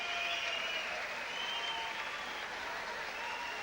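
Crowd applause at a boxing match fills the arena, a steady, dense wash of clapping and cheering that holds at an even level throughout without pause.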